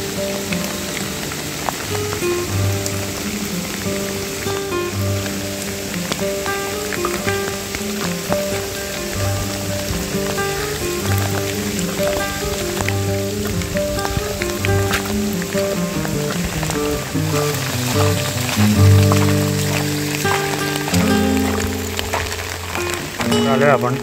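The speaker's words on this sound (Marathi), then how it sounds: "खूपच पाऊस आहे" Heavy rain pours steadily throughout, a dense hiss running under loud music that plays from start to finish.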